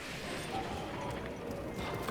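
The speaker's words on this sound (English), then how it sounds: "Please don't step on me with your fucking horse feet." A horse in the video game Breath of the Wild stamps its hooves, a run of dull, uneven thuds over a muddy low rumble of game ambience, with no voices.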